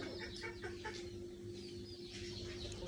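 Chickens cluck and call on a small poultry farm during the rainy season, in a steady chorus of short, overlapping clucks against constant background noise, with no talking.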